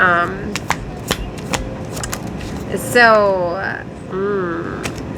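Tarot cards riffle and snap in quick bursts at close range while a voice talks over them in a casual tarot reading.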